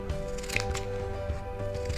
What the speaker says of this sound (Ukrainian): Ось яким чином ці ножиці ріжуть.